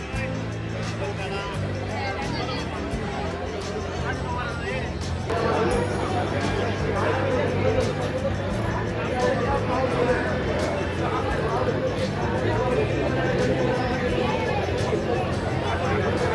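Dense crowd chatter at the Anganewadi temple fair in Konkan, a steady wash of overlapping voices and bustle that grows slightly busier partway through, with no single speaker standing out.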